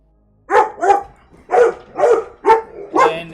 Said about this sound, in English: you all hear dogs barking like crazy because they are